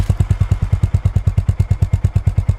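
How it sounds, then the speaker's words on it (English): Honda CB350 H'ness single-cylinder engine through a 45mm exhaust, a deep bassy thump pulsing in a fast, even rhythm, close and loud with no talk. "A 45mm diameter exhaust is used to emit a deep and bassy sound"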